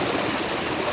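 Water gushes steadily from the 5-inch delivery pipe of a 10 HP solar tubewell pump, a loud, close, continuous rushing roar.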